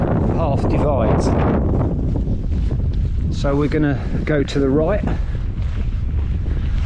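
Steady wind buffets the microphone on an open rocky hillside path in the Lake District fells, a constant low roar running the whole time beneath a voice talking close by.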